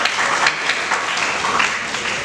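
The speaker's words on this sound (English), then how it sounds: "Have a clap for us" An audience at a talk on youthful calm claps together, a close, continuous patter of many hands that holds steady throughout.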